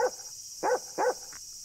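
A dog barks in the video game Yomawari: three short, clear barks at an even pace, with faint electronic background tones in between.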